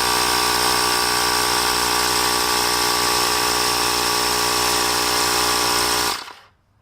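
A Ryobi P737 18-volt cordless air compressor inflator runs with a loud, steady buzzing motor drone close by, then stops abruptly near the end.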